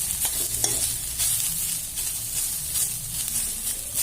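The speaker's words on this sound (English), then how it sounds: "So let's stir for a little bit." Bitter gourd fry being stirred in a pan, a close, continuous sizzle with scraping spoon strokes and a few soft knocks against the pan.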